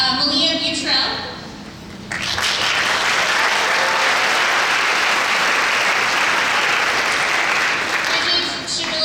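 Graduation audience applauding nursing faculty at a college RN nursing ceremony; a voice talks briefly at first, then loud, dense clapping swells in and fills the room steadily to the end.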